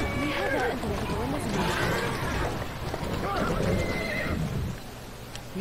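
A horse whinnies repeatedly in Assassin's Creed Syndicate over a busy background, with clip-clopping hooves and a rumbling soundscape, close and fairly loud.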